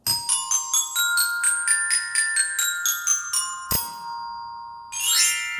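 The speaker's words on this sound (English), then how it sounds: "then it has the xylophone part that sits right here" Beginner band bell kit's metal keys struck with two mallets: a run of about a dozen bright ringing notes with short decays, then one long sustained ring and a final shimmering flourish, close and clear.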